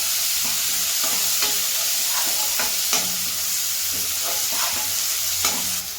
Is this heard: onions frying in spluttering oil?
yes